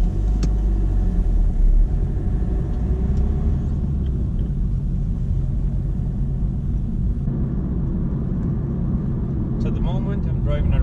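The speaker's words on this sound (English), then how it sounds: "at the moment I'm driving around 45 miles an hour and I'm keeping a good gap" A car drives along a road at about 45 mph, heard from inside as a steady low engine and road rumble, with faint talk present.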